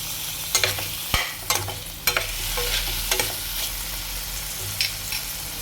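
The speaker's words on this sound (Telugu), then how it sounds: "దీన్ని బాగా వేయించుకుందాం" Paneer pieces for a paneer curry fry in a pan, a steady close sizzle broken by sharp scraping strokes of a spatula stirring at irregular intervals.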